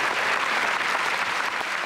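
Steady, dense audience applause at a Miss Russia 2011 pageant final, loud and continuous for the whole stretch with no talking over it.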